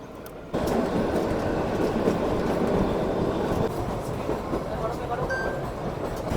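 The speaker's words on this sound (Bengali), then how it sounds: "ছেড়ে দিল আমাদের কালকা Shimla toy train Himalayan queen পুরো সঠিক সময় 11:55" The Kalka–Shimla narrow-gauge toy train rumbling and clattering as it pulls away from the station, a steady heavy roll of wheels on rails close by, with a faint squeal near the end.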